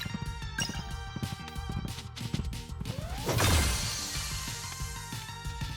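A power smash attack strikes enemies in an arc in a video game, a heavy crashing whoosh rising mid-clip over a busy bed of rhythmic game music and effects.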